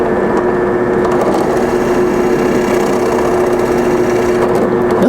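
An electric drill bores into wood in a home workshop with a steady, loud whining hum and gritty cutting noise, running continuously and close by without pause.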